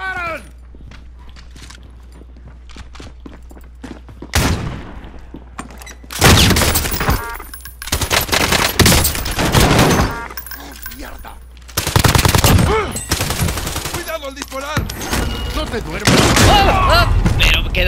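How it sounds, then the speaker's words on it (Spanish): Loud bursts of automatic gunfire in Call of Duty Warzone crack out in several long, rapid volleys separated by quieter gaps with scattered clicks, and voices can be heard among the shots. "¡Me están disparando!"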